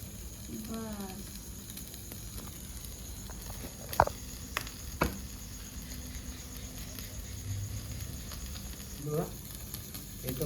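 Chicken tikka with tikka masala roasts in a pan over a small mesh grate, a steady low sizzle with a few sharp clicks and taps of handling.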